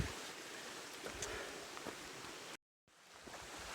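Matt's Creek on the Appalachian Trail flows with a soft, even rush of water, faint and continuous, cutting out briefly before resuming.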